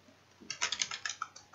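A computer keyboard clatters in a quick, quiet burst of about a dozen light keystrokes, close and uneven in rhythm, after a short silent lead-in.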